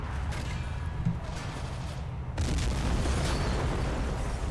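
Artillery explosions in the game Men of War: Assault Squad, deep rumbling booms over a dense battle-noise bed, with a heavier blast swelling in partway through.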